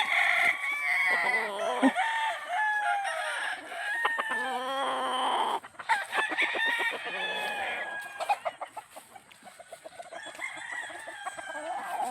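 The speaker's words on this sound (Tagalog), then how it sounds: "Dami mga manok dito." Chickens cluck busily while roosters crow repeatedly nearby, a noisy, continuous farmyard chorus.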